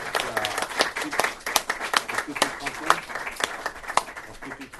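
A crowd applauds at an opening bell ceremony in Paris, brisk, dense clapping throughout with a voice speaking over it near the end.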